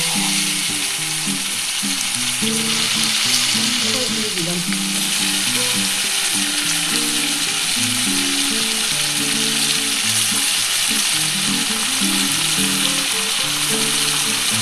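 Paneer sizzles and fries in a pan during stir-frying for a chili paneer dish, a steady dense crackle heard up close, with a continuous loud hiss throughout.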